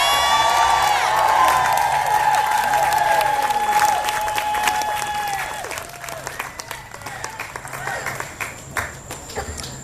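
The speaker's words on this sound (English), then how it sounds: "One more round of applause" Crowd applause and cheering at an outdoor vigil against gun violence, sustained clapping with whoops that gradually thins out to scattered claps while a tone rings in the background.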